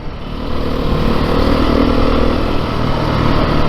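A 2022 Beta 430 RR-S dirt bike engine revving hard through its mid-range, a loud, steady, close roar that holds without a break.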